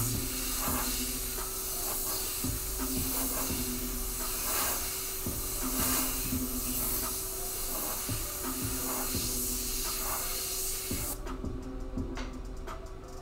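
An airbrush sprays paint in a steady, close hiss, with faint pulses as it sweeps side to side, then cuts off abruptly near the end.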